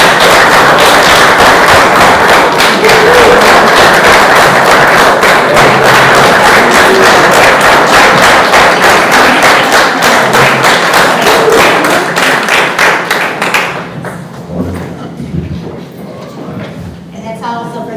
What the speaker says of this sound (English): I think we owe them one big round of applause.